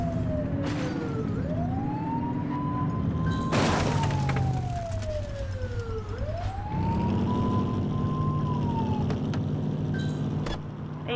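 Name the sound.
police car siren in a video game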